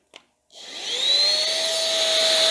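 A UMLo 400W cordless stick vacuum cleaner switches on after a brief click, its motor whining up to a steady, close, loud hum.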